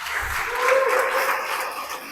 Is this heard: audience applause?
yes